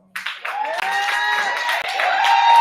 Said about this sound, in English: You can clap for money.